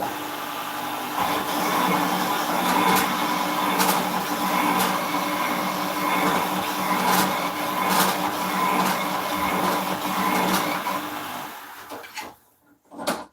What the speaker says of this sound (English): I'm just going to sharpen this 3/8 bowl gouge up. I've got my Robert Sorby Pro Edge over here